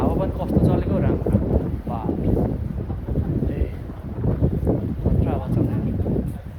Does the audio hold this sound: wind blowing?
yes